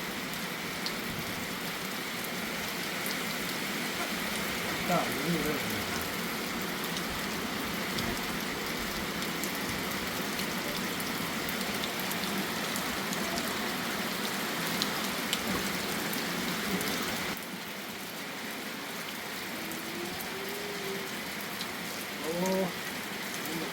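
Steady rain falls over rural Thai rice fields, a continuous close hiss of drops on surfaces throughout, dipping slightly near the end, with a few faint distant voices.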